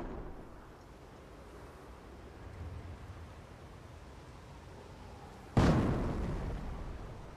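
A tower blown up in Company of Heroes during a WW2 V-2 rocket facility mission: low rumbling battlefield ambience, then a single sharp explosion that decays into a lingering roar.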